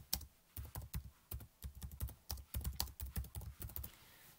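Rapid keystrokes on a computer keyboard, a continuous run of crisp, close clicks at an even, brisk pace with no voices.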